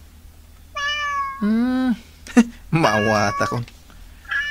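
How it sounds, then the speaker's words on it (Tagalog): A cat meows at a door, several drawn-out, rising-and-falling meows close by, interleaved with a person talking. "Ay, adagayang pusa iti tawa."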